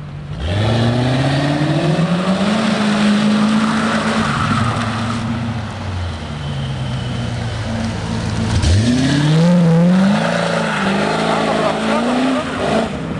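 Car drifting in second gear at a drift event in Thessaloniki, engine revving hard with rising and falling pitch sweeps and brief tire squeal, loud and close, with people talking over it.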